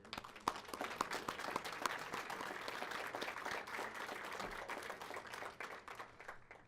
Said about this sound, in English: Let's give all of those folks a round of applause